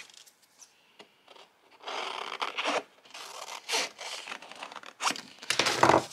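A circle cutter scores out a paper shape for a Christmas scrapbook page with scratchy, rasping strokes in uneven bursts, close up, plus some crinkling of the paper.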